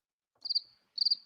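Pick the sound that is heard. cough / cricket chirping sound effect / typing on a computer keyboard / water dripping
cricket chirping sound effect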